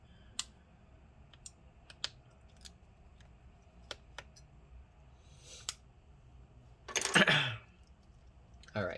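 Screws being backed out of a MacBook Pro A1398 with a small screwdriver give sparse, soft ticks and clicks in a quiet room, with a louder handling rustle near the end.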